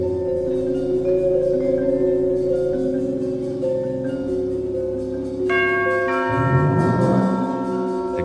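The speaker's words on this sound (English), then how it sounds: "The garage chimes and the door rolls up." A garage door chime in a radio-style audio drama: layered bell-like tones ring steadily, with a brighter cluster of chiming notes entering about two-thirds through over a low drone.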